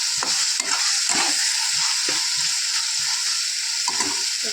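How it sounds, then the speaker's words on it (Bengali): Mushrooms with sugar fry in a pan in a steady, loud sizzle, punctuated by a few scraping stirs of a spatula, with no voices. "ভালো করে মাশরুমটাকে কষিয়ে নেব।"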